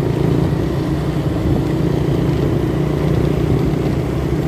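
A steady motorcycle engine runs continuously at a constant loud drone with no breaks or rev changes.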